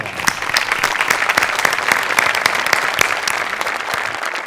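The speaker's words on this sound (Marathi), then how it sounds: "तुझ्यासाठी उभं राहून टाळ्या" A studio audience gives a standing ovation on a Marathi TV comedy show, with dense, loud, continuous clapping from many hands that holds steady throughout and has no speech over it.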